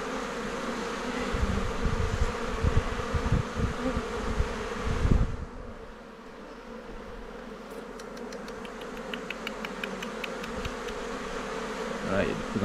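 Honey bees buzzing at an opened hive, a dense continuous drone close by with occasional handling knocks, softening partway through, with faint ticking later.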